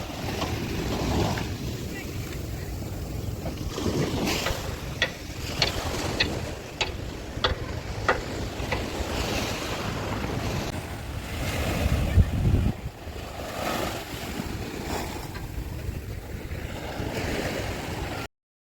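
Ocean waves wash in at Midgaon beach in Konkan at sunset as a continuous surf roar mixed with wind buffeting the microphone, and a few brief knocks and clatters are scattered across the middle.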